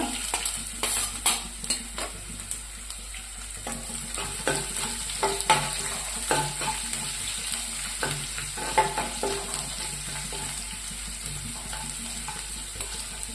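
Garlic fries in hot oil in a pan for vada pav, giving a steady close sizzle. Scattered sharp clicks and scrapes of a utensil stirring against the pan sound over it.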